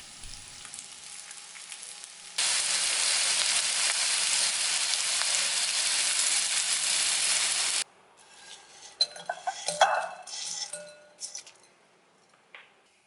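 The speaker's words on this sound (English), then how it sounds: "Pan fry it until all the sides turn to a crispy golden brown." Potato wedges pan-frying in a pan, a loud steady sizzle for several seconds, then quieter clinks and stirring clatter as the frying continues more faintly.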